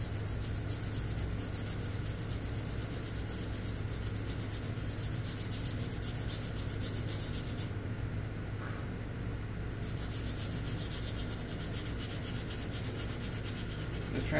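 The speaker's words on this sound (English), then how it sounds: "Get my sandpaper with my thumb here" Sandpaper rubs by hand over a carbon fiber wrap on a car trunk, a steady close scratching with a continuous, even rasp and no pause for the length of the sound.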